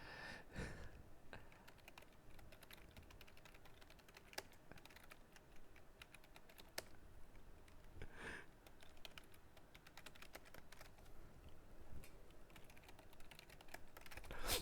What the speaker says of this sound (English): I don't know if I should be typing anything to Resolution during the draft start